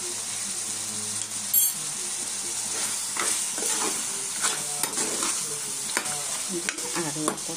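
Broiler chicken pieces and fried potatoes sizzle in a hot pan while a spoon stirs and scrapes, a steady close frying hiss broken by repeated clicks and scrapes of stirring.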